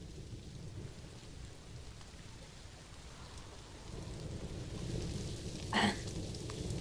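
Steady rain patters in a zoo-building video game, a faint continuous hiss with a low rumble beneath, and a sharp brief crack of thunder stands out near the end.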